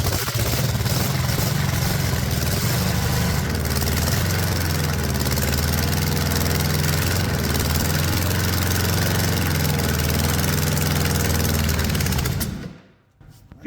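A Ford 460 big-block V8 engine, a cheap used unit with a suspect fuel pump, roars steadily and loudly at close range for about twelve seconds, then cuts out abruptly into near silence.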